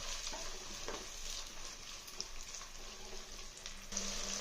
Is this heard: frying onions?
yes